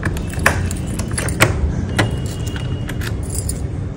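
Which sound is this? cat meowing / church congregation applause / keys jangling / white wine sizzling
keys jangling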